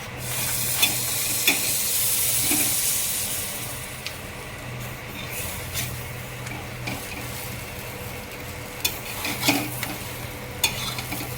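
A Frankie roll fries in butter on a pan, giving a soft, steady sizzle with occasional sharp scraping and clinking from stirring.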